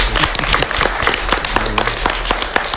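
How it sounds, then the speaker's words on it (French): Children clap for parents at a send-off for Niger's young robotics ambassadors, a busy patter of hands with scattered thumps and some background movement, fairly close and lively. "Vous applaudissez très fort pour les parents qui sont là."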